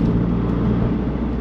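Audi TT Mk2 8J with a Gravity back box, stage 2+ tuned, giving a steady, close exhaust drone with a deep low rumble that holds level throughout, no voices present.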